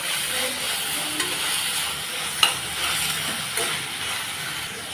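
Tomatoes and onions sautéing in a pan for a home-style kuzhambu, a steady close sizzle with a few light clinks of a spoon stirring, no voices.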